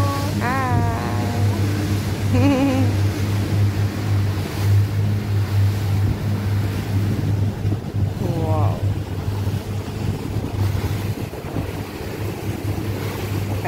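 A speed boat runs out across the open sea off Dubai, its engine a steady low drone under strong wind rush and water, with faint voices calling out briefly.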